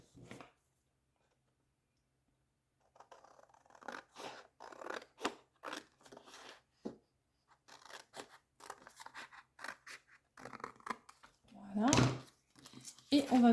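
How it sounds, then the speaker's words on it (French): Scissors cutting long strips of thick card for a sea-themed goodies card, a series of crisp snips and crunching cuts in close, quiet surroundings, with a louder cut near the end. "on va couper toute la longueur"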